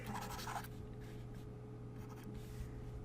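A board eraser rubs out writing on a classroom math board in a few short, scratchy strokes, faint and close by.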